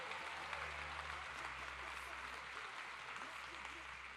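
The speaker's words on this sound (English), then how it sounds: "Big round of applause for that one" Faint, distant applause from a crowd at a cancer fundraising awards night, a soft continuous wash of clapping over a low electrical hum, with some voices mixed in.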